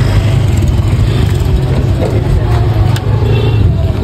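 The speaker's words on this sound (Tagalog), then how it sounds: "nakakita na kami ng motor kasi nga mag-motor hire kami dito" A rented motorbike engine in Siargao runs steadily and loudly throughout, a continuous close-up drone with no pauses.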